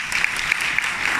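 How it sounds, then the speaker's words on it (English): Guests at a wedding dinner give a brief burst of dense, steady applause lasting just over a second. "A round of big applause for Tan Sri Dr. Lim and Puan Sri Tong."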